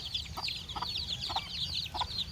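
Chickens cluck and chatter in soft, repeated calls on a rainy day, several birds close by with short bursts of clucking over a low background rumble.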